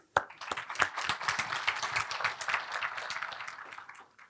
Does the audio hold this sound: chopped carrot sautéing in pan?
no